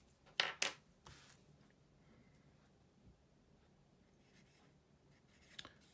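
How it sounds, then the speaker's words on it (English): A Lamy CP1 fountain pen with an extra fine nib writes on paper, giving a few faint, brief scratchy strokes near the start and one more near the end in an otherwise quiet room. "Let's do a writing sample, as said, with this very fantastic extra fine nib right here."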